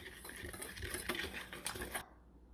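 Flour, salt, garlic powder, cayenne and paprika whisked together in a bowl for a fried calamari dredge, a quick, busy patter of light scraping strokes close up, stopping abruptly near the end.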